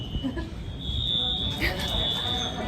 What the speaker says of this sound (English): there's some kind of alarm going off and we have no clue which building it's for